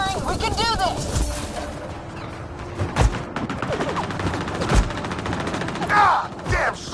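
Gunfire crackles through a firefight in the video game Mass Effect Andromeda: bursts of shots and sharp booms over a rumbling battle bed, with shouting voices mixed in.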